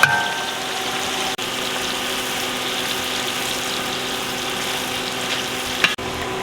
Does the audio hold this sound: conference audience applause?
no